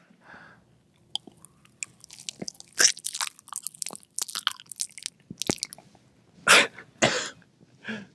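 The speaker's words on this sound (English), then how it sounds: "Just chew it real close to the mic." Someone chews wet food right up against a microphone for a Mortal Kombat 11 sound recording, giving close, gross crunches and squelchy bites in uneven bursts, with a few throat-clearing and cough-like noises between them.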